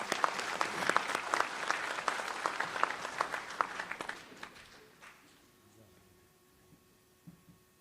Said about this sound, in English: I want you to give yourself a round of applause.